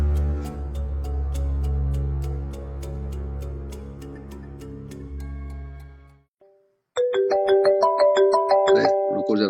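A steady ticking rhythm over a low drone breaks off, then a bright electronic mobile phone ringtone melody starts up, loud and close.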